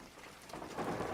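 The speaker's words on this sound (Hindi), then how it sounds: "उसी वक्त आसमान में एक जोरदार बिजली चमकी और बारिश अचानक और भी भयंकर हो गई" Heavy rain pours steadily in a thunderstorm, with low thunder rumbling beneath and the downpour swelling louder toward the end.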